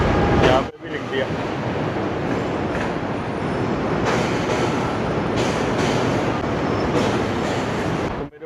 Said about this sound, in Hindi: जब भी ट्रेन जाती है ना, खतरनाक आवाज़ होती है इधर